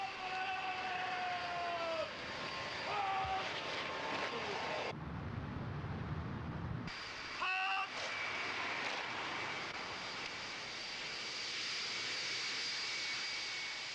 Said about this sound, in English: Once the King's plane had touched down at Gatwick Airport